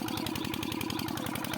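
A large-capacity diesel engine on a farm, pumping water for irrigation, runs close and loud with a fast, even thumping rhythm and no break.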